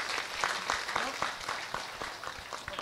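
Audience clapping at an Islamic sermon gathering, fairly loud and sparse, with distinct individual claps at an irregular pace over a busy background of crowd noise and voices.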